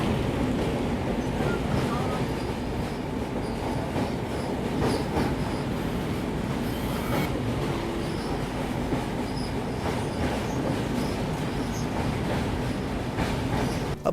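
A passenger train crossing the Tapi river rumbles steadily with rolling wheel noise and faint clickety-clack, loud and continuous from start to finish, with some faint voices in the background.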